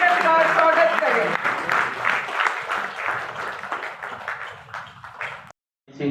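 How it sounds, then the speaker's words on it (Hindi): Loud audience applause rising in welcome for the release of a pen drive of publications at a Hindi-language ceremony, dense clapping mixed with voices for about five seconds before cutting off abruptly. "मेरा अनुरोध कि अपनी जोरदार तालियों के साथ ज्ञान के इस विमोचन का स्वागत करें।"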